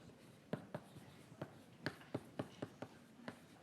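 Marker or chalk writing out a coordination-complex chemistry problem during a lecture, a series of quiet scratchy strokes and taps in an irregular rhythm, close and alone with no talk.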